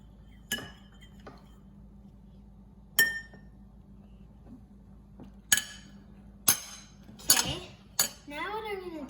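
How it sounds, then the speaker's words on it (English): A spoon clinks against a glass bowl while stirring food coloring, sharp separate taps spaced out over several seconds, close and clear, with a short voice near the end. "now we're gonna take the spoon and stir it"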